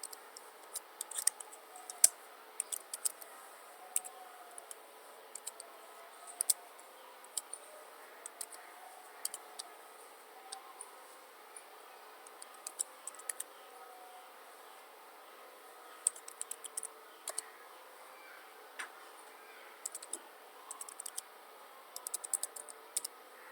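Keyboard typing during a computer lesson on Excel, with sparse, light, irregular key taps scattered throughout over a low steady hum, no talking.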